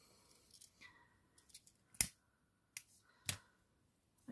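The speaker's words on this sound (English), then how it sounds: "So I am going to cut this down just a little bit." Scissors snip lining material for an alligator hair clip, a few crisp close cuts separated by pauses and soft rustling, quiet and without talk.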